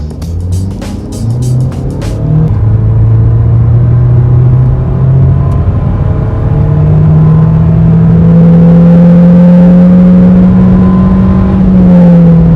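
A 2017 Nissan Sentra engine drones and climbs steadily in pitch as it accelerates, a smooth continuous rise typical of a CVT, loud and close from inside.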